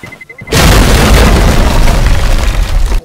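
A loud bomb explodes in the Holdfast video game, a sudden deep boom after a short quiet lead-in, followed by a dense roaring rumble that sustains for about two and a half seconds before cutting off.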